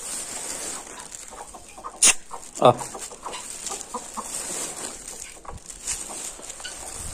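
Black hens cluck softly and scattered while being fed grain, with a couple of louder squawks and faint rustling, and a person briefly calls out.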